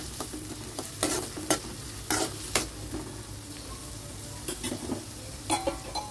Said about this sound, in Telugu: వేగుతూ ఉన్నప్పుడు మనకి కరివేపాకు 2 రెమ్మలు వేసేసుకోండి